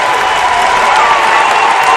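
Home crowd at a Bedford high school basketball playoff quarterfinal against Trinity, on their feet with loud, sustained cheering and applause, steady and close throughout.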